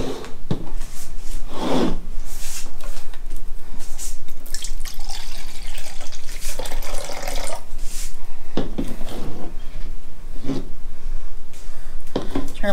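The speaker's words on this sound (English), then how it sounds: "we're adding in 5 ounces of pineapple juice." Pineapple juice is poured into a cocktail in several bursts of close, gurgling liquid splashing, separated by quieter handling and rubbing noises against a continuous background.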